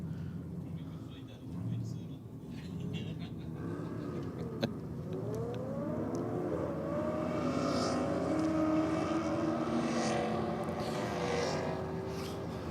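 A Holden Commodore Ute and a Ford Mustang drag racing side by side down a strip, with a steady roar of engines rising in pitch and building through the run, while a commentator talks over it.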